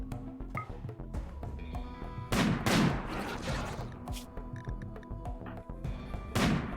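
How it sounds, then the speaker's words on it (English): Sniper rifles firing at centipedes in RimWorld, several sharp heavy shots spaced a few seconds apart over a busy background of smaller impacts and clatter. "look how few shots that we have to put in to these centipedes before it dies"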